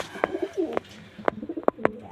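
Close white pigeons coo softly in short repeated calls, several low throaty phrases in quick succession with no talking.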